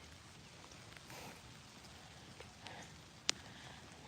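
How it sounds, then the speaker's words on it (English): Rain falling outdoors, a steady soft wash of drops with a couple of faint sharper ticks, fairly quiet and continuous throughout. "Walking in the rain. It's raining."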